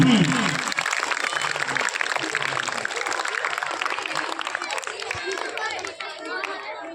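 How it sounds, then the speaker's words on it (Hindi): Dense applause and clapping from an audience at a village school's Republic Day (26 January) function as Ranjeet Fauji is called to the stage and honoured. It stays steady throughout, mixed with crowd chatter and children's voices. "तालियां जोरदार होनी चाहिए"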